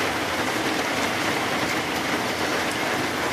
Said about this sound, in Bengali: দেখো বৃষ্টি হচ্ছে জোরে জোরে ঝমঝমা।